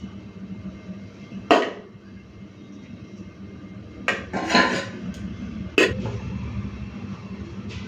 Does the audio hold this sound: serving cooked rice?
yes